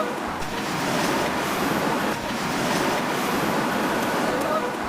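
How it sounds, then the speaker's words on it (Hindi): Floodwater surging and splashing in a steady, loud, broadband roar that holds with little change throughout, with no voices. "अगली वीडियो में ये पानी उछलता फिर रहा है जैसे ये बहुत बड़ी तबाही मचा देगा।"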